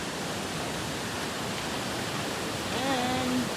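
Loud, steady rush of water near a bridge along a river, a broad continuous roar with a brief tonal sound rising faintly above it near the end.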